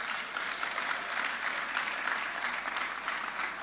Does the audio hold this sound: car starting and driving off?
no